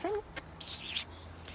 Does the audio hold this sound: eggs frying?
no